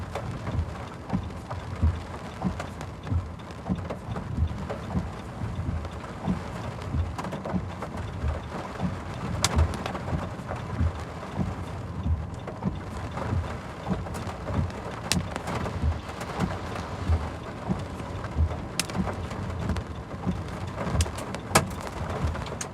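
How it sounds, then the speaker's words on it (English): Small hailstones patter continuously on surfaces during a thunderstorm, a dense steady rattle of many tiny impacts with occasional sharper clicks, fairly close and without talk. "Yep, that is indeed hail that we are hearing."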